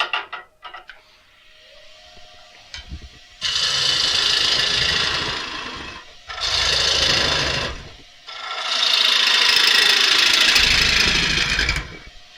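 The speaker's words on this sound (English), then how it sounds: "So let's finish hollowing this out." A bowl gouge cuts into a spinning wooden bowl on a wood lathe, hollowing out the inside in three long, loud, rasping passes separated by short pauses, with the motor hum running underneath.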